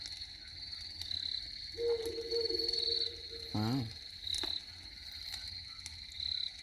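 Frogs croak in a steady outdoor chorus, with a sustained trilling call and a louder rising croak nearby, over a constant high insect drone; a person briefly exclaims.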